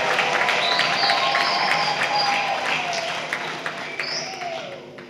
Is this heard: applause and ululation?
yes